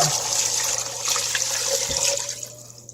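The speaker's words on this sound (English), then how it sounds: "I'm going to add 6 cups of water to this chicken." Water pours steadily into a pot of chicken with a rushing, splashing sound that tapers off near the end.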